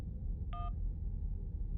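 In the Syberia video game, a single short telephone dialing tone sounds once over a steady low background hum.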